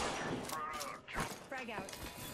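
Dense, continuous bursts of video game gunfire, loud and close, with rapid overlapping shots and impacts under a player's speech.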